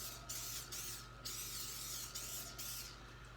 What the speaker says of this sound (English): What I'm going to do is I'm going to basically spray them on the surface, making sure it gets everywhere.